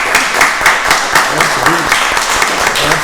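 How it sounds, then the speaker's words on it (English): Meeting attendees at a county board of commissioners work session giving the commissioners a round of applause, a brief, modest patter of close clapping with some voices mixed in. "So let's give the commissioners another round of applause."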